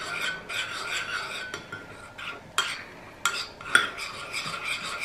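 A coffee and olive oil face mask mixture being stirred in a small bowl: repeated close scraping and clinking of a spoon, irregular strokes with a few sharper taps, no voices.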